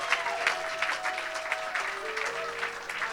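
Church congregation clapping together in a sustained, steady burst of applause, with some voices and a held tone underneath, filling a large worship hall.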